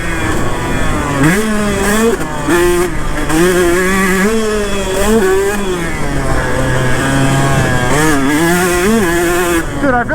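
A KTM 150 SX two-stroke dirt bike engine screams close by, revving up and down continuously as the rider works the throttle, with a rising and falling raspy pitch and no talking.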